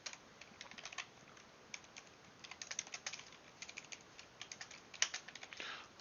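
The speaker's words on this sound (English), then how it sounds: "I'll type it one more time." Quick, irregular clatter of keys on a computer keyboard, fairly faint and close, in short bursts with brief pauses and no voices.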